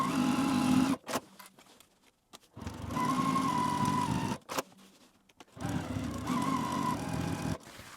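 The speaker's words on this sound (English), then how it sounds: "Now we're going to take this to our machine." A domestic sewing machine stitches the pockets of a fabric craft supply caddy in three steady bursts, each a few seconds long with short pauses between, close and fairly loud with no talking.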